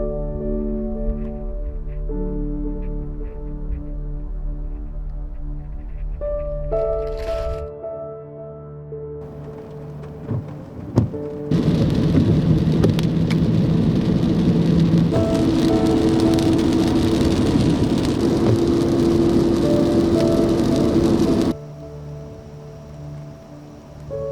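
Heavy rain from a summer thunderstorm, a dense steady roar of drops that swells and then cuts off abruptly, heard alongside intermittent tonal background sounds.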